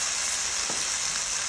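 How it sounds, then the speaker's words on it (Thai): Pad Thai with sweet preserved radish and dried shrimp stir-fries in a hot pan, giving a close, continuous sizzle with one brief scrape of the spatula midway. "ใส่เชโป ้เชโป้หวานแล้วก็กุ้งแห้งใส่ลงไปนะคะ แล้วก็คลุกเครื่องได้เลย"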